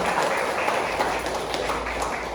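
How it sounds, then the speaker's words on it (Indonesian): School principals in an audience at an educational talk show clap together, a continuous, fairly loud bed of applause with a low room hum beneath it. "Coba beri tepuk tangan untuk kita semua."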